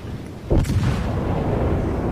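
A single heavy boom of naval cannon fire in World of Warships, a sharp blast at about half a second that rolls out into a sustained low rumble of battle noise.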